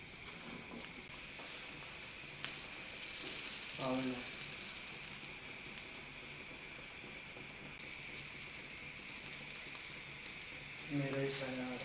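Bun kabab patties dipped in mixture fry in hot oil with a constant quiet sizzle and crackle, broken by a couple of brief louder bursts as more goes in.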